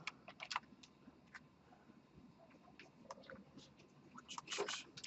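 Soft, scattered keystrokes come from a computer keyboard while someone writes code, with faint irregular clicks in short bursts and no talk.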